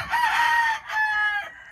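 A backyard rooster crows loudly and close by, one crow broken into two drawn-out phrases.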